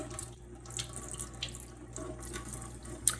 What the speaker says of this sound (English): I'm just gonna get a little bit of water going here